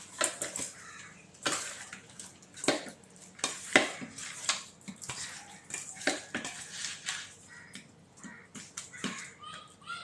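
Masala being mixed in a cooking pot, repeated clinks and scrapes of a spoon against metal in an irregular rhythm, close and moderately quiet, no talk.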